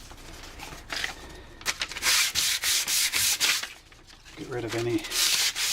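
Hand sanding of weathered porch wood with an old sheet of 150-grit sandpaper makes rhythmic, close scratchy strokes in repeated bursts, with a brief pause and a short spoken phrase partway through.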